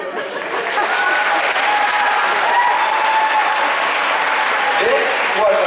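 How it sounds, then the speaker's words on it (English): A school audience breaks into applause during a last-lecture speech. The clapping rises quickly and stays loud and even, with no voice over it. "Pause for applause."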